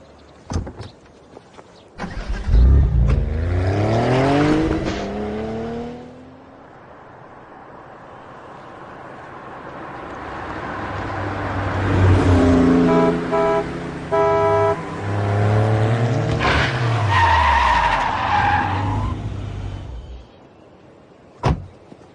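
A car engine revs and swerves with tyre-like squealing sweeps and a few honks, loud and close, with door and window sounds nearby and music underneath.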